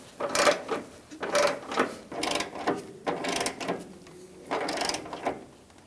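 Bolts being snugged down on the headlight retainer bezel of a 1999-2025 Ford E-350 Super Duty, heard as close, repeated ratcheting bursts in a steady rhythm of about six pulls with brief pauses between.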